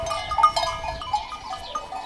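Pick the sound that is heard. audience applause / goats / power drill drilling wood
goats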